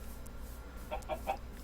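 Minecraft chickens give a few quiet, quick clucks near the end over a low ambient hum.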